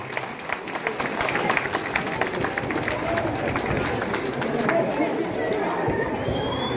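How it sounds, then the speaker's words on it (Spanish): Students at a Peruvian school ceremony honouring a South American athletics gold medallist clap steadily together, a dense, even wash of applause lasting throughout, with crowd murmur and a voice heard over it. "Aplausos, jóvenes."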